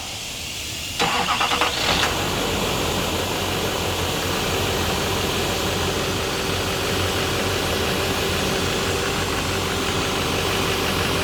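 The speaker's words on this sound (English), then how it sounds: "I'm gonna get someone to go up top and start the vehicle for me while I pump some fluid." A truck engine cranks briefly and catches, then settles into a steady, close idle with a constant mechanical hum.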